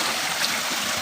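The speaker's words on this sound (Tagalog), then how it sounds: "Ang lakas ng tubig." A strong stream of water rushes through a farm field, a loud, even broadband gush with no breaks, close by and alone.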